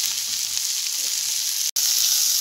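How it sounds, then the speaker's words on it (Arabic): Colored bell peppers sautéing in a hot pan, a steady close sizzle and crackle with one brief cut to silence near the end. "بحاول اشوح الفلفل بتاع الالوان ده كده"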